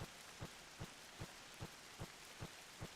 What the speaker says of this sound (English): Or you got rain weather.